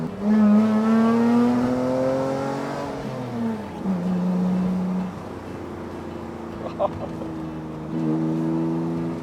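A BMW 3 Series engine revs hard on a downshift, its pitch climbing and then dropping with a throttle blip before pulling again, loud and close inside the car.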